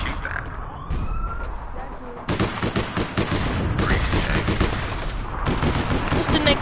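Rapid bursts of gunfire in the online game APB, crackling in dense volleys with siren-like wails mixed in, loud and sustained under a busy mix, with people talking over it.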